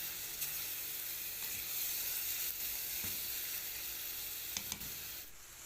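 Finely chopped garlic cloves stirred into a hot pan, steady soft sizzling with a few scrapes and taps of the utensil, fairly quiet and close.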